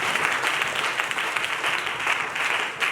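Audience applause from a crowd at a Christian wealth-mindset teaching session, steady dense clapping filling the whole stretch at an even level with no voices over it.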